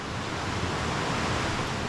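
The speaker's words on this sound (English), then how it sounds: "we just found this magical waterfall spot" A waterfall and stream rush in a steady, dense roar of water that fills the space evenly, loud and continuous with no other sounds.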